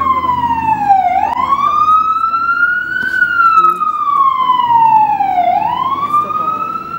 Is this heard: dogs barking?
no